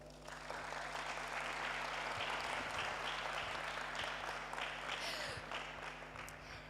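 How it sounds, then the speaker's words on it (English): A crowd claps at the opening ceremony of a national geoinformatics day exposition, with dense even applause in a large hall over a steady low electrical hum, sustained for several seconds before easing slightly. "You can clap here."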